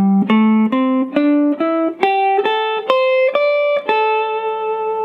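Guitar playing the minor D pentatonic position as an ascending scale, about a dozen distinct plucked notes stepping up in pitch at a steady pace, loud and close with a slightly distorted tone and no talking.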